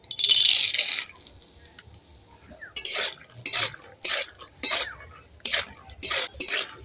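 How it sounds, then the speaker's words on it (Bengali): Peanuts frying in hot mustard oil in a kadai: a brief hiss of sizzling, then a run of sharp metallic scrapes and clinks as a spoon stirs the nuts, close and loud, without speech. "কড়াইতে তেলটা গরম হয়ে গেছে। আমি এখানে চীনা বাদাম নিয়েছি, এই চীনা বাদামগুলো ভেজে নেব।"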